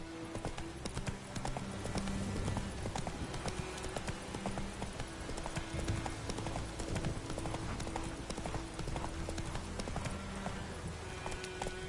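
Roach the horse gallops in The Witcher 3 video game, a steady, loud clip-clop of hooves running continuously under busy game sound with a low background hum.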